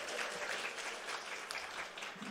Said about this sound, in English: Pause for applause, pause for applause.